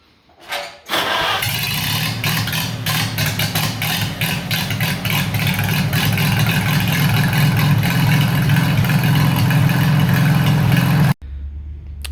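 A Farmall H tractor engine with a freshly rebuilt carburetor cranks, catches and runs loud and steady for about ten seconds close by, then cuts off abruptly.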